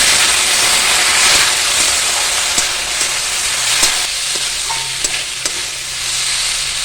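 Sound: ginger garlic paste sizzling as it is stirred in the pan

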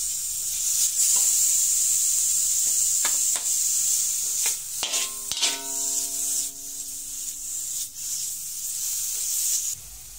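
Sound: pork fat sizzling as it renders in a pan

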